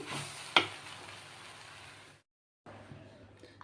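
A puffed-rice upma mixture is stirred in a pan, heard as a soft, faint sizzle with one sharp utensil tap early on and a brief silent cut before the quiet frying resumes.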